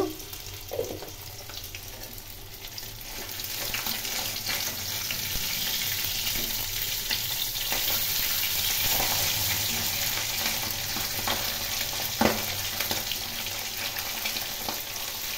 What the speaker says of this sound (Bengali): তেল গরম করে এর মধ্যে পাঁচফোড়ন দিয়ে দিলাম।